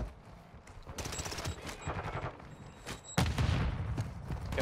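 Rapid automatic gunfire from Modern Warfare 2 multiplayer, dense bursts of shots cracking continuously, with a louder, heavier stretch near the end.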